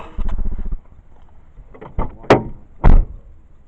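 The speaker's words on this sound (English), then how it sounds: "door shut." Several loud knocks and thuds sound in quick succession as a door is pushed shut during a night-time ghost hunt, after a stretch of low rumbling.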